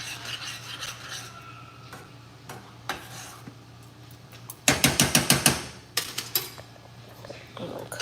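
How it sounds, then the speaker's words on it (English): A spoon scrapes and knocks in a pot while butter is stirred into thick grits. Sporadic rubbing gives way to a quick run of louder rhythmic strokes, then a few more scrapes. "I'm just gonna mix that butter in there"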